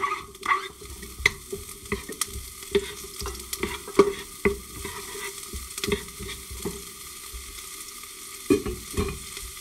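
Onions fry in a little oil in a hot saucepan for a guanciale pasta sauce, giving a soft, steady sizzle broken by repeated sharp scrapes and knocks of stirring, close and clear.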